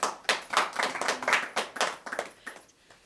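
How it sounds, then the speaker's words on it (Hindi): An audience claps at a Hindi literary open mic gathering, with a brisk run of fairly close, individually distinct hand claps fading out toward the end. "इसके लिए जोरदार तालियां हो जानी चाहिए।"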